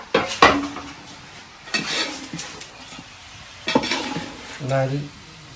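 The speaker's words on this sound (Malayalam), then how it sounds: "അപ്പൊ നന്നായി അങ്ങോട്ട് നമുക്ക് ഇളക്കി ഒന്ന് കൊടുക്കട്ടെ ആ ഉള്ളിയും മറമുളകും കൂടി ഒന്ന് യോജിക്കട്ടെ" A utensil stirs onion and chilli frying in a pan, with repeated scraping and clanks of metal against the pan over a light sizzle, coming in short bursts, close by.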